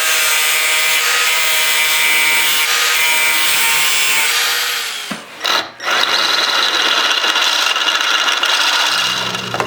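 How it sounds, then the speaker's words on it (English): Power grinding on the stamped steel firewall of a car body during an LS swap hydraulic clutch install, a steady harsh abrasive whine that dips briefly near the middle and then continues, close and loud with no talk. "I need to grind this down to get this at the same level as these kind of welded in nuts"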